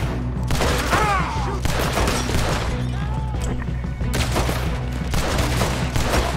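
Rapid bursts of gunfire from the Red Dead Redemption 2 video game, dense overlapping shots and cracks rolling on continuously over a low background rumble.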